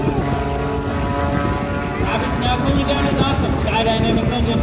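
A Skydynamics-engined aerobatic airplane performs at an air show at Tyndall AFB, its propeller engine droning steadily and loudly throughout amid crowd ambience, with some talk underneath.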